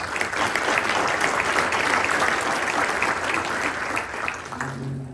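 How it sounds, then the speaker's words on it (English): An audience at a school honor society induction dinner ceremony applauds the executive board with dense, sustained clapping that fades slightly toward the end. "So a round of applause for our executive board."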